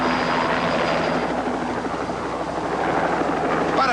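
Steady rhythmic thumping of a helicopter's rotor blades with engine whine, loud and fairly close, growing slightly stronger as it approaches a rhea in the Taim wetland.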